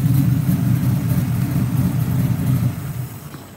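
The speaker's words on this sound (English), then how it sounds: "If you can't appreciate the sound of this car right here" A car engine runs steadily in a garage, a strong low rumble holding at an even idle throughout with slight swells in level, loud and close with no voices.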